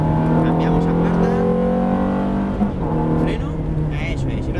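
A Ferrari F430 engine accelerating on the Jarama race circuit in Madrid, heard from onboard as a loud, steady droning roar that climbs slightly in pitch, with an instructor talking over it.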